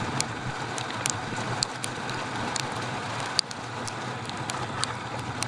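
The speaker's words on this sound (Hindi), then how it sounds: "तो बारिश आ गई है एंड सही आ गई है, आई मीन तेज हो गई है थोड़ी" Steady rain during a Himalayan motorcycle ride toward Mussoorie, a continuous broadband hiss of falling drops and road noise with faint scattered taps, even in level and fairly close.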